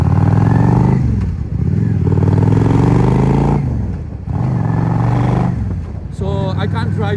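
A 650cc motorbike being ridden, its engine droning loud and steady with a couple of dips as the rider shifts, while a rider talks over the engine throughout.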